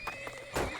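A horse in a video game gives a short whinny, rising and wavering, with faint clip-clop hooves nearby; quick, fairly close and alone.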